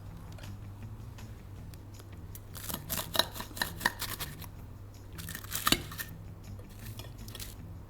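A knife cuts through a slice of jelly-glazed apricot tart, giving a few soft clinks and scrapes against the plate in the middle and again near the end, with a low steady hum underneath.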